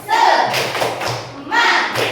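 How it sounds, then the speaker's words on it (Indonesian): A class claps out the rhythmic tepuk semangat spirit routine: a loud group burst of clapping, a pause, then another burst, with voices mixed in. "Tepuk semangat."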